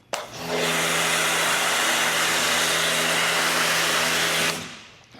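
An AR635 pressure washer sprays snow foam through an MTM PF22 foam cannon with a 1.7 mm orifice. The loud, steady hissing roar starts abruptly, holds for about four seconds, then cuts off.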